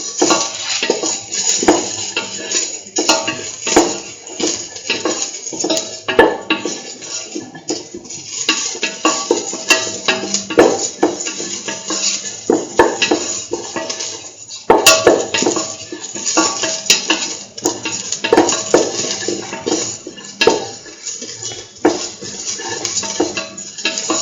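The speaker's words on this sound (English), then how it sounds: "Thoroughly sauteing." Curried lentil rice is stirred and sautéed in a pan, with steady scraping and clinking of a utensil against the metal over a faint sizzle, loud and close, going on without pause.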